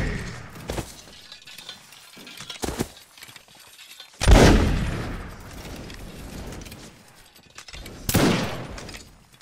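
A volley of musket fire crashes out in a line battle video game, two loud massed bursts about four seconds apart with a rolling crackle and ringing tail after each, over faint background noise.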